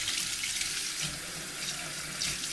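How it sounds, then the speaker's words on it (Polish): Cold tap water pours steadily over silk laps fibres in a container, a continuous close hissing splash with no talking. "Teraz sobie zaleję ten Silk Labs zimną wodą, żebym mogła go za moment dotknąć."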